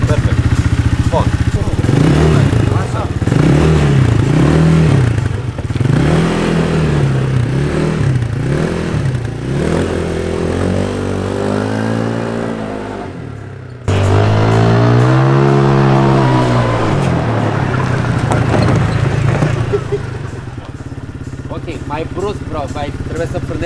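A car engine revs in repeated rising and falling surges, then pulls away with a sharp climbing whine as the car moves off, loud and close, with people talking over it throughout.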